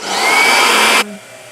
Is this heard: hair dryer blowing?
yes